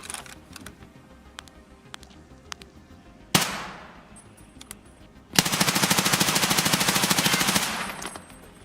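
Video game gunfire: a single loud shot with a decaying tail, then a sustained rapid automatic burst of about three seconds, close and loud, with sparse clicks before it.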